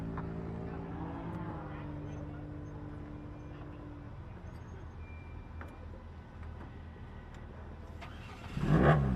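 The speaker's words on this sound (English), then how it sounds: "Truck still sounds smooth as silk." A racing truck's engine runs at a drag race during the 2022 State Line Shootout, a steady mid-pitched drone held throughout with a louder surge at the very end, with some talk partly mixed in.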